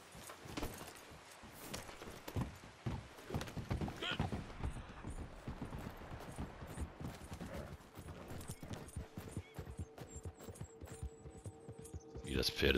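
A horse's hooves clop in a steady walking rhythm in the Red Dead Redemption 2 online game, close and evenly paced for most of the stretch, over a low ambient hum.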